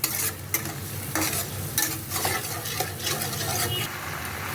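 Oil and spices sizzle and fry loudly in a pan for a dahi potol curry as a little water goes in, with steady crackling and stirring scrapes throughout, no talking.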